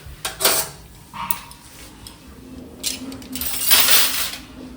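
Kitchen utensils and metal pots clatter as they are handled, with a few brief clinks and scrapes standing out over a quiet room background.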